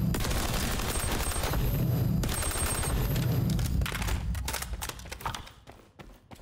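Rapid automatic gunfire in a shooter video game, sustained bursts of close, loud shots that thin into scattered single pops and fade toward the end.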